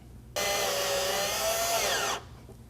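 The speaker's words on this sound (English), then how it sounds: "We're going to put that in with a Phillips head drill bit." Power drill with a Phillips bit driving a self-tapping screw during a roof rack install on a 2022 Jeep Wrangler, one steady whining burst under two seconds long that stops abruptly, close and loud.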